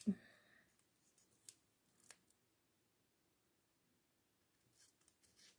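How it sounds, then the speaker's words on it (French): Scissors snipping paper circles in half while making a baby photo album, a few quiet close snips and rustles separated by near-silence, with no talk. "Donc, je vais en couper la moitié."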